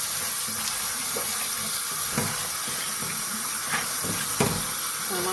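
Soaked black-eyed peas being rinsed in a colander under a running tap: a steady hissing stream of water, close and continuous, with faint clinks and shifting sounds from the peas and no talking.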